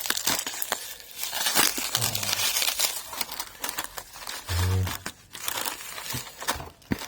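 Tape and cardboard packaging crinkle and tear as a parcel holding a Ford Focus part is opened close up, with rustling, a few sharp rips and handling thumps.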